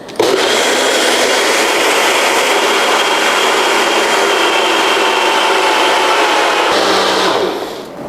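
A mixer grinder whirs steadily at full power for about seven seconds while grinding idli batter, then winds down near the end, with no talking.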